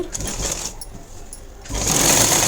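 Tailoring sewing machine stitching a plain blouse, whirring briefly at the start, dropping off, then running steadily and loudly again toward the end, heard up close without talking.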